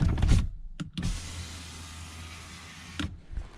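A car's power windows whir with a steady electric motor hum, starting and ending with clunks, close by and with no talking.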